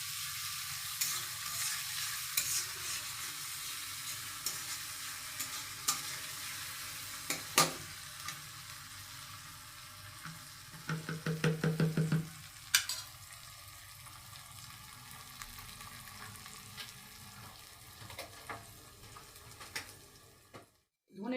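Garlic and ginger paste stir-frying for a Bengali chicken curry with potato and papaya, a steady close sizzle with occasional spatula scrapes and knocks against the pan, a short burst of stirring clatter midway.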